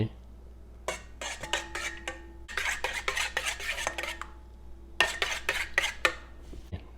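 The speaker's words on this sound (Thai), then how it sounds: "ตีไข่ให้แตกก่อนนะครับ" Eggs being beaten in a bowl, rapid clattering utensil-against-dish strokes coming in quick bursts with short pauses between, close and clear, with no voice.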